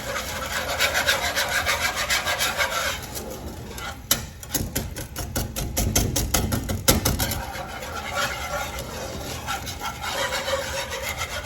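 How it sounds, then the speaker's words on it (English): A whisk scrapes and rubs through ingredients in a bowl, with close, scratchy strokes that speed into a quick rhythmic burst of rapid whisking midway before easing back to slower rasping; no one speaks. "I'm gonna use my whisk first so I can break that up"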